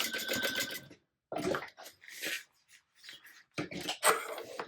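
Sewing machine stitching across a tote bag, heard as short bursts of rapid mechanical stitching separated by brief pauses, close and fairly quiet, with no talking.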